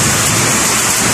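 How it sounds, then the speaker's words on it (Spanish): Hail pours down during a storm in Leticia, Amazonas, some of it falling onto a bed, heard as a dense, loud, continuous roar of rattling impacts. "está cayendo granizo a la cama"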